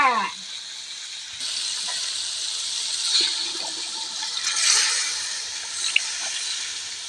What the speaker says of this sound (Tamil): புளி கரைச்சி வச்சுக்கிறேன், ஊற்றிக்கலாங்க.